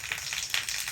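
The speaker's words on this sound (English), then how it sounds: "when the poly tank overfills at the top, it comes down and then it comes out this little overflow" Water spilling from the overflow pipe of an overfilling poly water tank on a tank stand, a steady close hiss and splash with faint surging pulses and no talking.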